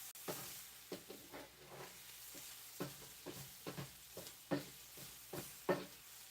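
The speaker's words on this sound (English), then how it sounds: "Listen to that sizzle." Steak sizzling in a hot skillet, a soft steady frying hiss broken by recurring louder crackling bursts as the meat is moved, close but fairly quiet.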